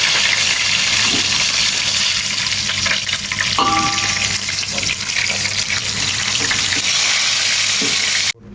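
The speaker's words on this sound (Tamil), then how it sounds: "பொன்னிறமாக மீனை வறுத்து எடுத்துக்கிறணும்" Seer fish (vanjaram) sizzles loudly in hot oil with a constant crackling hiss, a brief metallic clink midway, then the sound cuts off abruptly at the end.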